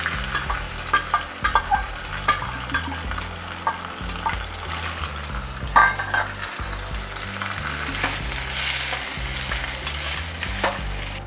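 Flavoured coconut rice is stirred and fried in a pan, with continuous sizzling under repeated scraping strokes of a spoon against the pan, close and steady with no talk.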